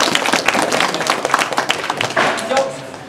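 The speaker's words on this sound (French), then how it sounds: "on peut les applaudir" Audience at a community event claps in uneven, fairly close bursts while voices talk and cheer over the clapping, the sound thinning toward the end.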